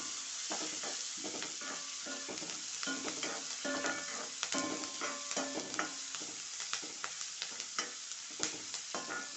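Onion, ginger and garlic sizzling in a hot pan as the base for chicken curry, continuous frying hiss broken by frequent close spatula scrapes and taps, growing busier toward the end.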